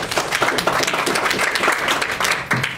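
At a borough board meeting, attendees clap for the re-elected community board chair, a loud, close, sustained round of applause with sharp individual claps throughout.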